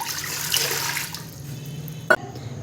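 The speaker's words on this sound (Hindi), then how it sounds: "अब कुकर में हम पानी डाल देंगे इस तरह से" Water is poured into a pressure cooker at close range, a brief gushing splash that fades into a softer trickle over a low background hum.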